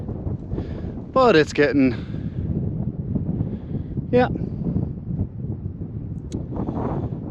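Wind buffets the microphone in a constant rough rush on a hill walk around Knockshanahullion and Bay Lough, with a few brief spoken words breaking through.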